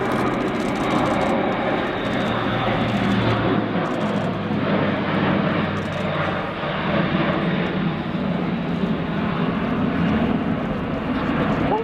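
Airbus A400M Atlas military transport aircraft performing a flying display at RAF Fairford, a loud sustained turboprop roar with a steady droning hum that lasts throughout.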